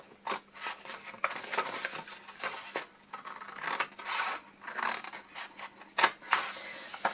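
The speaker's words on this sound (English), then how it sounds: "scissors are fine. So you're just cutting up to that first line." Scissors snip through a sheet of card stock along a score line for a one-sheet-wonder mini album, giving repeated crisp close-up cuts in short irregular bursts, with no talking.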